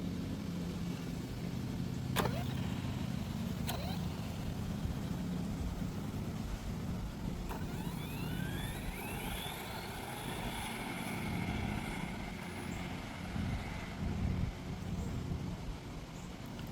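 An HBX 2997A RC car with a Supersonic 130A ESC and 3650 5600kv motor on 4S doing a speed run on a bumpy road: a steady outdoor rumble with a rising and falling motor whine passing midway.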